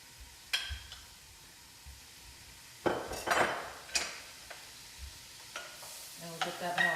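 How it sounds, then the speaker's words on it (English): A pan set back down on a stovetop with clinks and clatter, followed by butter hitting the hot pan with a soft sizzle, brief knocks and scrapes spread over several seconds. "we're going to put this back on the stove, and then I'm going to add 2 tablespoons of butter."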